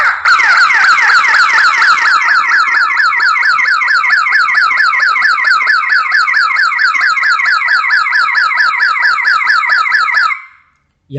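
The alarm output siren of a CCTV security system blares loud and close, a rapid warbling electronic whoop repeated without pause for about ten seconds before cutting off abruptly, with no voices.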